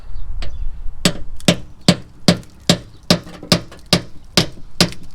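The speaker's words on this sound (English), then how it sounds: "give it a couple of taps" Hammer tapping on a Mazda Miata MX-5 front bumper part, a series of about twelve sharp, evenly spaced metallic knocks, close and distinct with quiet gaps between them.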